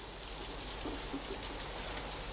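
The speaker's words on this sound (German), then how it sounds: "Es regnet wie Teufel." Heavy rain pours down in a dense, steady hiss that fills the whole clip at an even loudness, with no voices and no distinct individual drops standing out.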